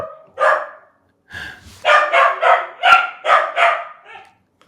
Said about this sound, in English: do you hear my dog going crazy?